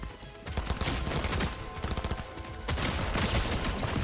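Rapid bursts of gunfire in a Fortnite match, dense overlapping shots that come in quick volleys with a brief dip partway through, loud and continuous.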